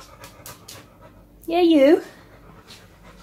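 A dog drinks and pants close by in quick rhythmic bursts, and a person briefly speaks over it midway.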